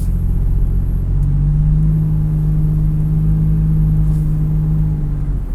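A deep, rich engine note swells and holds as a Toyota 4Runner TRD with a cold air intake accelerates, heard from inside the cabin over a constant road rumble.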